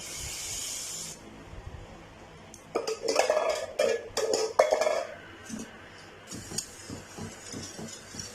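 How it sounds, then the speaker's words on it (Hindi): Half a cup of sugar pours into a pot holding a litre of milk, a grainy hiss and patter lasting a couple of seconds, followed by soft clinks and scrapes of kitchen utensils. "और हाफ कप जो है हम इसमें चीनी डालेंगे।"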